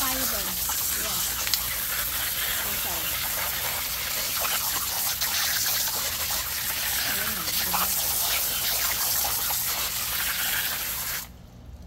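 Steady, loud gushing water while fish are rinsed for homemade fish fertilizer, a continuous broadband splash running for about eleven seconds before cutting off abruptly near the end.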